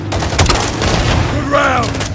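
Gunfire and a launcher blast in Call of Duty Modern Warfare II combat: loud, close rapid shots layered with a booming hit, constant and dense throughout, while a voice shouts over the battle near the end.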